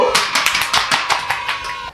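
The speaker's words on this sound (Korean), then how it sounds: "박수!" Applause for a guest at a Korean university transfer English program, with roughly a dozen rapid hand claps from a small group close by and no talking.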